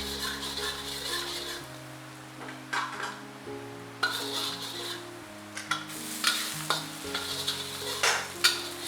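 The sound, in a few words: stir-frying meatballs with garlic in a pan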